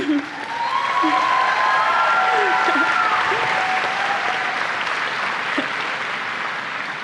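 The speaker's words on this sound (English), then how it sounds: "I'll tell her you clapped for her." A convocation audience of new students applauds in a sustained, dense round of clapping, with a few voices heard through it.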